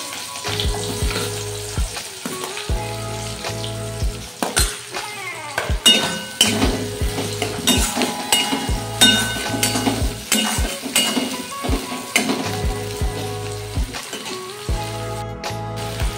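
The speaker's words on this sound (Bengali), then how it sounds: "এরপর আমি দিয়ে দিচ্ছি পেঁয়াজ কুচিগুলো, একে একে পেঁয়াজ কুচিটা দিয়ে দিলে" Chopped onions sizzle steadily in hot oil for a moun dal with fish head, with clinks of a spoon or spatula stirring the pan and background music running throughout.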